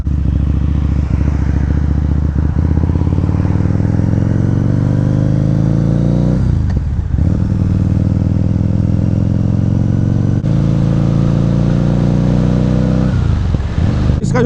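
A Harley-Davidson V-Rod Muscle motorcycle pulls away in first gear, its engine very loud and close, revving up in a steady climbing drone with brief dips between pulls, no talking.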